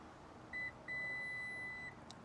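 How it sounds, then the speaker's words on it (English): Two electronic beeps from a 2025 Subaru Forester tailgate button, a short chirp followed by a longer sustained tone lasting about a second, clear and close against quiet background hum. "click and hold this button right here until you hear a beep"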